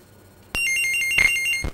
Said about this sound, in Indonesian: Oke, ada telepon. Kita angkat terlebih dahulu.